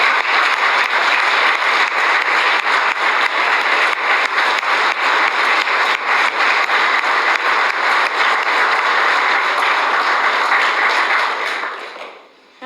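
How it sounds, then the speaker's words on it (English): Sustained round of applause for Dennis at a memorial gathering, a dense steady wash of many hands clapping loudly with no talk, holding for about twelve seconds before tapering off abruptly at the end. "can we give Dennis another round of applause"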